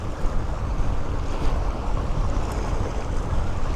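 A boat coming in to dock at Kuwait's Sheikh Jaber Al-Ahmad Cultural Centre, heard as a steady wash of water and wind noise, moderately loud and continuous with no clear engine beats.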